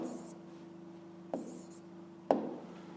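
A pen scratches across paper while writing out a word problem, a few soft strokes punctuated by two sharp taps, close and quiet over a faint steady hum.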